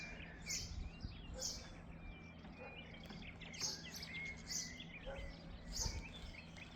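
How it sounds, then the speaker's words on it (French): Birds sing in the Djurdjura mountains of Kabylie, with repeated bright chirps and short warbling calls from several directions over a quiet outdoor background, moderately distant. "C'est apaisant, les oiseaux,"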